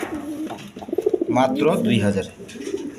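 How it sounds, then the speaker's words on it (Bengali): Pigeons at a farm coo softly and repeatedly close by, mixed with a man's speech running over much of the sound. "এখানে এক পেয়ার গররা কবুতর আছে"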